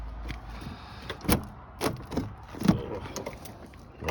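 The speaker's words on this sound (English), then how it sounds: "Door frozen shut." A frozen-shut door on a Mercedes turbo diesel in minus 9°C cold is tugged and forced open, giving several separate thumps and cracks spaced about half a second apart amid soft rattling, with no talking.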